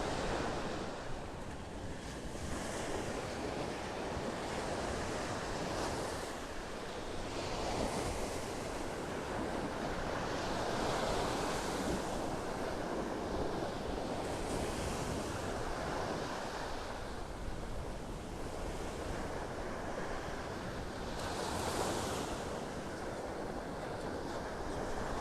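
Ocean waves breaking on a beach in North Naples, Florida, a continuous broadband wash of surf with swells cresting every few seconds, steady and fairly close, with no voices.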